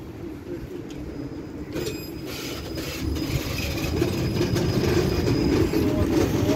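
A 71-623-02 tram on route 45 rumbles steadily along its rails, the low rolling noise swelling gradually louder, with faint clicks and a thin high whine above.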